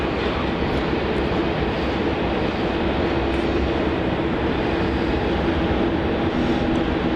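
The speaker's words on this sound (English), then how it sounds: "There's the Dreamliner for Air India taxiing down towards runway 34, so we'll get a heavy departure" Air India Boeing 787 Dreamliner taxiing toward runway 34 at Melbourne Airport, a steady broadband jet engine roar with a faint tonal whine, continuous and fairly loud throughout.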